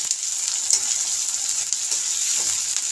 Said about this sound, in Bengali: পেঁয়াজটাকে একটু ভালো করে ভেজে নিতে হবে। পেঁয়াজটাকে নেড়ে দেব